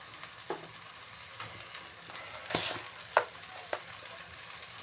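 Mashed taro being stirred in a hot frying pan over medium-high heat, with low continuous sizzling and occasional scraping knocks of a spatula, close and fairly quiet, with no speech.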